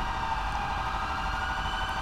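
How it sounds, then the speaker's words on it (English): Police car sirens in Grand Theft Auto V hold steady, faint, drawn-out tones in the background of a quiet scene. "All right, people, y'all can shut the sirens up."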